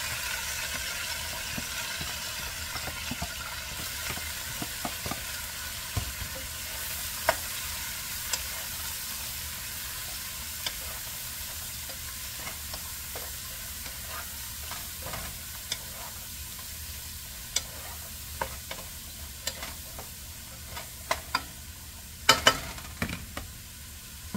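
Garlic and kangkong (water spinach) fry in a pan at home, a steady close sizzle running throughout, with occasional sharp pops and utensil clinks standing out.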